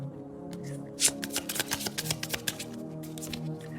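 Tarot cards being shuffled close by, a quick run of crisp riffling flicks and soft slaps over roughly three seconds, with no talking.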